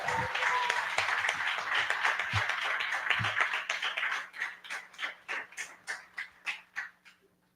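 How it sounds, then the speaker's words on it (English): Applause from a Python conference lightning-talk audience, a dense crowd of clapping that thins out into a handful of separate, rhythmic claps before fading, with a few voices murmuring underneath. "So round of applause."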